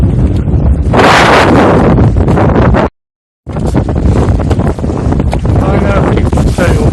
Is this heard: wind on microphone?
yes